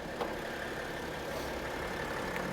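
A used BMW X5 with a six-cylinder diesel engine idles with the hood open, giving a smooth, steady low rumble with a faint, even mechanical hum and no voices.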